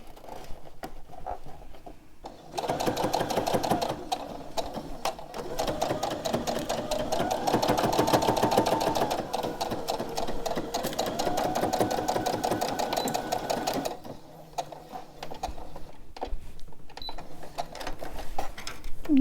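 A sewing machine stitching the seams of a memory bear runs in a long, steady, rapid whirring burst of about eleven seconds, with quieter handling sounds before and after.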